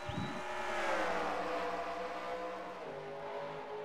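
Race cars at Denver Motorsports Park surging away together on a green flag start, a dense, sustained engine roar that swells and then eases slightly, heard at a distance with no talk.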